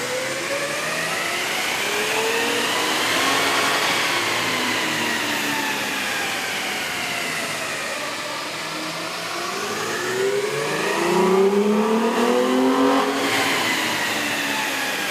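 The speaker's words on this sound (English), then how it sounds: "With the air intake installed, we ran the vehicle on the dyno to test the sound comparison versus the stock intake." Toyota Tacoma 4.0-liter engine with a K&N air intake running on a dyno, revving steadily up and back down in long sweeping pulls, loud and close with a whooshing intake note, no talking.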